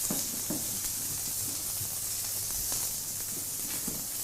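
Tomatoes cook down on a hot griddle with a steady, soft sizzle and hiss, broken by a few faint clicks and scrapes from occasional stirring, with no voices.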